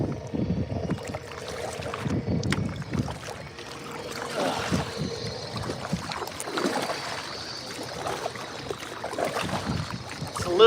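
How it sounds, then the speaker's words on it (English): A kayak works its way through river rapids, with churning water, paddle splashes and rushing wind noise in a busy, fluctuating wash that stays close the whole time. "I just got to get past these rapids"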